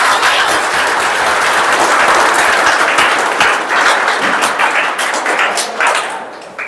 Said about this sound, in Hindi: अब बजा लो तालियां, जो भी बजाना है।